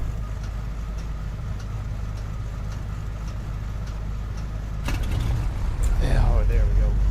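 Piston engines on a twin-engine Beechcraft Duke crank and catch in the cold after the throttle is cracked open. A steady low drone builds, then a loud cough and rising rumble follow near the end, with speech over it.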